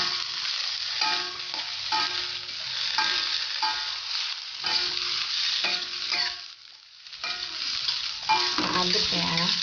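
Rice frying in a pan with oyster sauce for Korean egg fried rice, stirred in a run of scraping, clinking strokes over a continuous loud sizzle.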